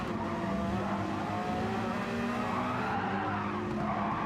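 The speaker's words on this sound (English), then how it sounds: "Too much steering input and too much gas equals a spin." Racing-sim GT car at Le Mans loses grip and spins, tires skidding and squealing continuously over a loud, steady engine roar, with no pause.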